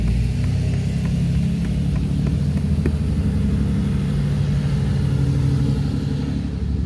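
A diesel truck engine rumbles low and steady nearby, outdoors where gold is being panned, a continuous droning throb with no break.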